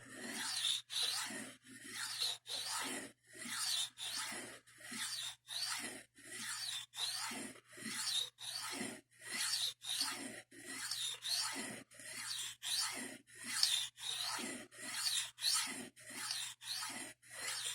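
A blade is sharpened by hand in even rhythmic strokes, roughly one per second, each a close rasping scrape followed by a short gap, with no talking.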